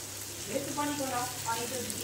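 Water poured into a pan of hot oil while cooking raw plantain for a hilsa fish dish gives a close, steady sizzle with crackling and bubbling throughout.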